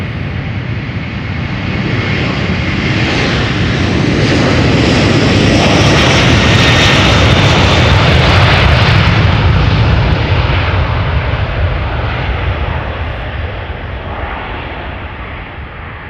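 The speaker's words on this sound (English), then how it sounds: "Airbus A330 KLM taking off right now from the Polderbaan" A KLM Airbus A330-200 roars down the Polderbaan runway at Amsterdam on takeoff, a loud, sustained jet-engine rumble swelling to a peak midway and easing slightly as it climbs away, with no voices over it.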